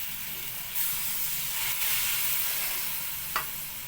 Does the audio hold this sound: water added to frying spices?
yes